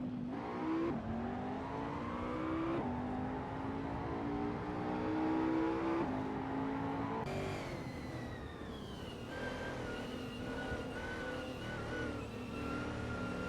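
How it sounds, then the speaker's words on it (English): Race cars from a racing video game whine along the track, engine tones rising and shifting as the cars accelerate and pass, a steady, dense roar with no talk. "We just witnessed some intense racing action on the track"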